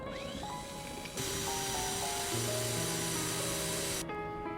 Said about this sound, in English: putting this attachment on the drill and trying to drill away at it, like grind it away